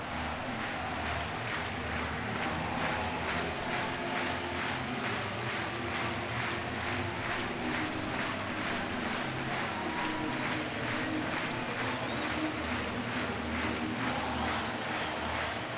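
A baseball crowd at a Cleveland versus White Sox game roars after a two-out home run in the 10th, a broad sustained cheer with applause holding steady throughout, no individual voices standing out.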